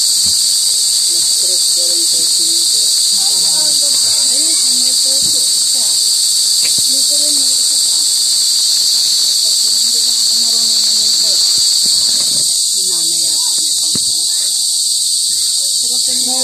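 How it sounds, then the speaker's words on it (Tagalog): Loud, dense field crickets chirping continuously at dusk, a steady high trilling drone that fills the whole scene while faint voices murmur underneath. "Pero naglabasa na yung kuliglig."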